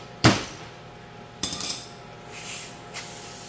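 A hammer strikes a nail to punch a hole in a spray paint can lid, a sharp metallic hit followed by a cluster of lighter taps and two softer knocks, close and clear with no talking.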